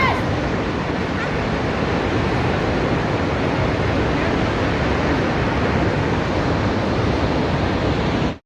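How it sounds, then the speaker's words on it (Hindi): Khamosh Waterfall near Skardu, Pakistan, rushing in a loud, steady roar of falling water that fills the whole stretch without a break. "और ये खामोश वाटरफॉल।"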